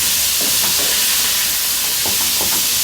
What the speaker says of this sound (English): sear the beans on a hot surface, similar to grilling